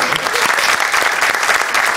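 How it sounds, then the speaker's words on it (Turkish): Studio audience applause on a comedy television show, dense and loud continuous clapping, steady and close throughout. "Alkışlayalım."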